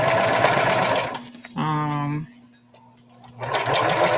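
A sewing machine stitches a bucket hat band in one short, loud burst of rapid mechanical whirring, framed by speech before and after.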